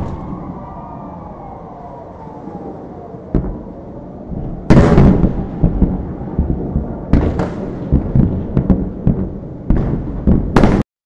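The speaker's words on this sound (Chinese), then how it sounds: "该国南部数百万以色列人在火箭和爆炸的无情声音中醒来" Rocket explosions over Israel during a barrage: a faint siren wail fades early, then repeated loud booms and sharp blasts punch through at irregular intervals over a rumbling background.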